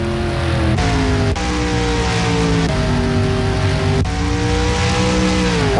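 Race cars lap Bristol Motor Speedway in a sim racing series, engines droning loud and close with pitch shifting up and down as they rev through the corners, several cars layered together without letup.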